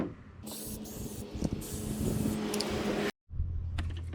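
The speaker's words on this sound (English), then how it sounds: "So I'm going to be spraying some battery terminal protector." Aerosol battery terminal protector hisses in a long continuous burst for a few seconds, stops abruptly, then a shorter spray follows, close up with an engine hum beneath, on a 2015 Honda CR-V.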